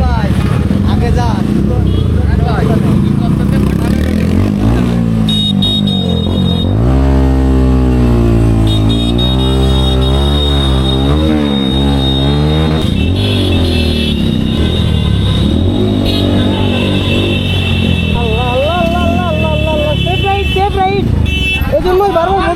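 Motorcycles riding together in a group on a road, their engines droning and revving close by with rising and falling pitch, plus occasional horn toots, loud and continuous under a voice speaking.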